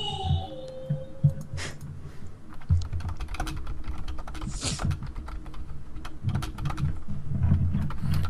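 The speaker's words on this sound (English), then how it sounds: "do you hear when I'm typing?" Rapid clicking keystrokes on a computer keyboard patter continuously and close to the microphone during an online Town of Salem game, over a low steady hum.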